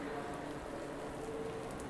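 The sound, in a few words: rain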